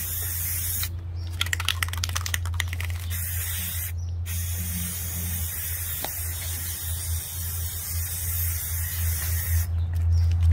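Spray paint hisses from an aerosol can onto glass jars in several sharp bursts of varying length, separated by pauses, close and fairly loud over a steady low background hum.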